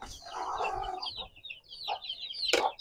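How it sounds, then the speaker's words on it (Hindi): Chickens and young chicks clucking inside a cage, several short clucks and squawks overlapping at close range, ending in a louder sharp call. "चल चूजे आ गए, इनको भी हमने डालना।"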